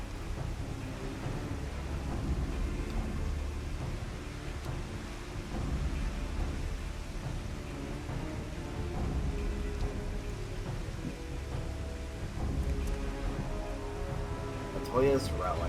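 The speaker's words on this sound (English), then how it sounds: "It's raining." Steady rain with rumbling thunder in the video game Final Fantasy XIV Shadowbringers, in the Matoya's Relict area, a continuous wet wash under a low roll, with a person talking over it throughout.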